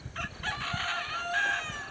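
A rooster crows once, fairly close and clear, against quiet background.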